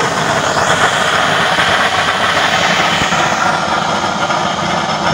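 A gas burner nozzle with 24 holes and no top holes, fed by a blower into a 6 cm chamber, roars with a loud, steady, unbroken flame.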